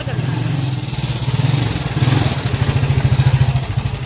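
A motorbike engine runs with a rapid, pulsing low putter at close range while the bike is moved indoors, steady and loud throughout, with people talking over it.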